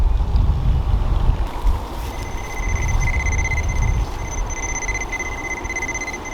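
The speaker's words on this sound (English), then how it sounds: "See, you have the beeping, which means I'm close to the wire." A wire tracer wand emits a steady, high electronic beep while sweeping over a buried wire outdoors, heard alongside rumbling wind noise on the microphone.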